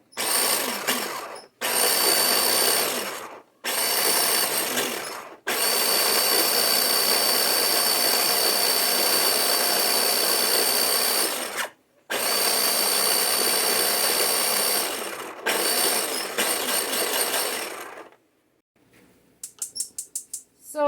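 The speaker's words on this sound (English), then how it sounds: "So I'm just going to use my little chopper here. I want it chopped up nice and fine." A small electric food chopper whirs as it chops basil, running in several loud bursts separated by short silences, including one long continuous run in the middle.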